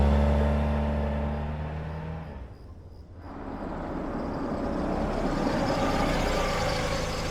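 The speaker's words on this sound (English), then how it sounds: "that car sound horrible, bro. That shit need a tune-up" A car engine revs roughly in the game Beyond: Two Souls, loud and close. The droning roar fades to a lull midway, then swells back up and holds strong to the end.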